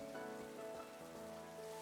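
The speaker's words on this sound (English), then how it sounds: "No, this is just rain." Steady rain falls in the game Pokemon Legends Arceus, a dense continuous hiss of drops on surfaces under a faint sustained musical drone.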